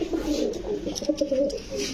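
Soft, repeated pigeon coos murmur close by in low throaty pulses, with faint rustling and a hint of voices in the background, from flying pigeons at a pigeon sale.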